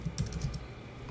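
A few quick keystrokes tap on a computer keyboard, soft and close in a quiet room.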